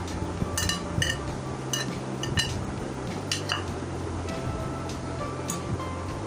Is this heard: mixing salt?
yes